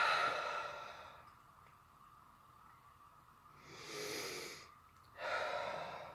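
A person draws a slow, deep breath in, then two more long, close, airy breaths follow with quiet gaps between, and no talk.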